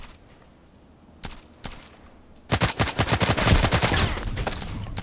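An SVU-AS automatic sniper rifle in the Contract Wars shooter fires a couple of single sharp shots, then a rapid, loud automatic burst of cracking reports that trails into echoing reverberation.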